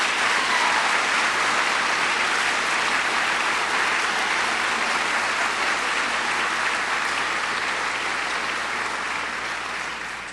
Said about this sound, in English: Let us show the right respect for them and offer them a round of applause and thank them for their service.